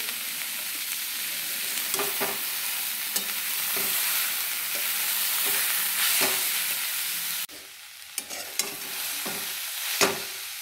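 Cabbage is stir-fried in a pan over a high flame, with a continuous loud sizzle broken by repeated scraping and clacking as a spatula stirs and tosses it.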